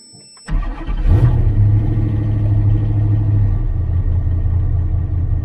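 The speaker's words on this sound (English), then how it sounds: "this is my hot start with the engine at the moment." An Ultima Evolution's engine is hot-started on a dyno. A short starter whirr catches into a loud, steady rumbling idle that holds close and continuous to the end.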